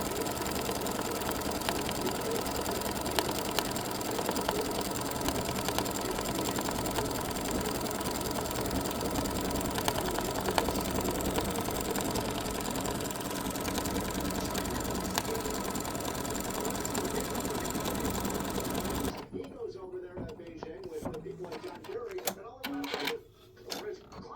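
A sewing machine stitches a decorative spider web pattern on a Halloween quilt block, running in a steady, continuous mechanical whir for most of the clip before stopping, leaving quieter handling sounds near the end.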